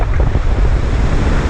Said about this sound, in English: you can see the eye pass and the wind's coming from the other direction now